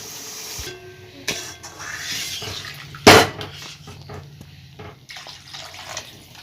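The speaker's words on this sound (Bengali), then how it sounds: "আলুটা দিয়ে এবার জল দিয়ে দেব যে যেমন ঝোল খাবেন সেই অনুযায়ী জল দেবেন" Water goes into a pot of fried potatoes for a fish curry, with a short loud splash and hiss in the middle among scattered kitchen clinks and quieter stretches.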